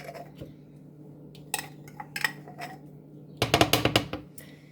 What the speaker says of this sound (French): on va vider le contenu dans un saladier